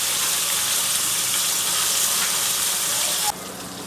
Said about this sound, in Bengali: এবার একে একে লোটে মাছগুলোকে আমি ভেজে নেব।